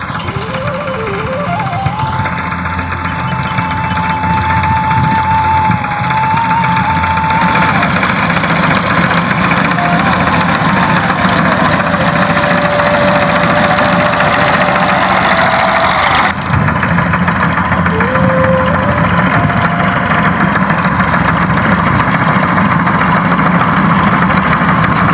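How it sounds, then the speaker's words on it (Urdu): A tractor engine drives a mustard harvesting machine in a field, a loud, continuous mid-to-low engine drone with vibration and faint changing whines, steady throughout with no clear speech. "اب دیکھتے ٹریکٹر اس طرف گیا ہے"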